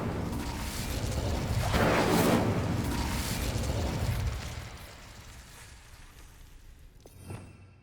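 A fire spell, Incendio, is cast in Hogwarts Legacy: a loud, roaring burst of flame swells over the first few seconds, then fades, ending with a short sharp pop near the close.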